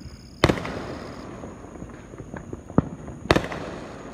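Fourth of July fireworks bursting at a distance outdoors, three sharp booms spread across a few seconds over a low ambient rumble, with no voices.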